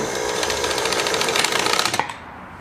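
Singer 750 sewing machine running and stitching, a loud rapid mechanical chatter that holds steady for about two seconds before stopping abruptly, with no voices.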